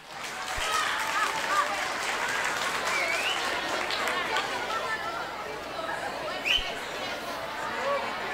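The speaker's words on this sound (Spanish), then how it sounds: "Lo recibimos con un fuerte aplauso." An audience at a school music recital applauds steadily throughout, with scattered clapping mixed with crowd chatter and a few voices.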